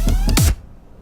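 Heavy dubstep bass patch from the Serum synth, run through a pipe resonator, OTT, dynamic EQ and glue compression, plays two short stabs then a longer growl with a falling pitch sweep, loud and alone before cutting to near silence.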